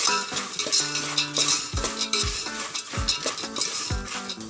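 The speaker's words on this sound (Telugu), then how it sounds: "వీటిని అన్నిటి వేసుకొని బాగా కలుపుకోవాలి" Poha mixed with salt and chili in a pan, rhythmic scraping and clinking of a spoon against the metal with a light sizzle underneath, continuous and close, no speech.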